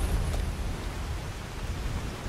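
Steady rain hisses as a constant wash of noise in the video game Skyrim, with no distinct thunderclap standing out and nobody talking.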